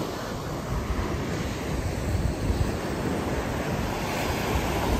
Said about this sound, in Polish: dla mnie to jest tak morze, szum morza